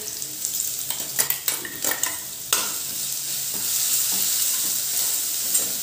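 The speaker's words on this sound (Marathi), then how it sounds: "तेलात चांगली ती फ्राय करायची पेस्ट." A paste of garlic, green chili and ginger fried in oil over a mustard and cumin tempering for a potato curry, with quick spoon scrapes and clinks against the pan, then a continuous close sizzle.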